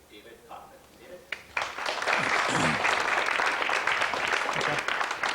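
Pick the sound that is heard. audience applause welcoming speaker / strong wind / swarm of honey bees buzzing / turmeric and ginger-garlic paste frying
audience applause welcoming speaker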